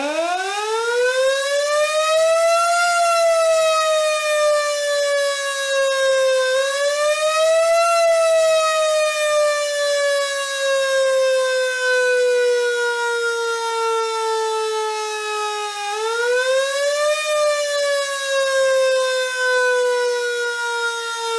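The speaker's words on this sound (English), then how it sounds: "who has a police siren out of the old school days?" A loud old-fashioned wailing siren winds up and down repeatedly, rising in pitch then slowly falling, sustained throughout with no talk.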